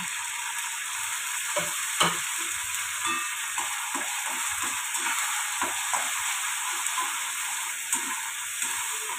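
Grated tomato and a little coriander leaf frying in a pan, a steady close sizzle broken by regular knocks and scrapes of a spoon stirring, with no voices.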